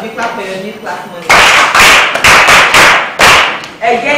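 A class of schoolchildren claps together in loud, close bursts of bright slaps, several rounds broken by short pauses, with a voice speaking before the applause starts.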